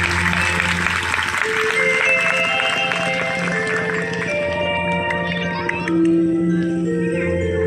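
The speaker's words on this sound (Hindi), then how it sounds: "तो एक बार जोरदार ताली आप" Crowd at a religious discourse gathering claps for a visiting saint, sustained applause mixed with music and tonal instruments, with some voices underneath.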